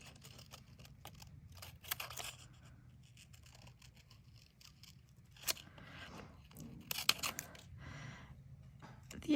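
Scissors fussy cutting around an artist trading card, a run of soft, quiet crunching snips and paper rustles with small taps close by and no talking.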